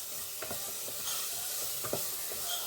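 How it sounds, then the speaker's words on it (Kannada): Grated carrots sizzle softly in a hot pan for carrot halva as a spoon scrapes and stirs in a few steady strokes, a faint continuous frying hiss beneath the clicks. "ಈ ಥರ ಫ್ರೈ ಮಾಡ್ಕೋಬೇಕು ಇದನ್ನು"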